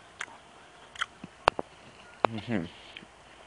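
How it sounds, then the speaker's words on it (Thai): A man chews and eats pork close to the microphone, with a few sharp bites and moist smacking sounds at irregular intervals, and a brief stretch of his voice partway through. "ผมกำลังกินเนื้อหมูเลย"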